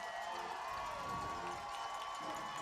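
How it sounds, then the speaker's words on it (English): Crowd noise at a high school football playoff game between Opelousas and South Lafourche, a steady distant roar of cheering and shouting from the stands that holds throughout. "Crowd making some noise"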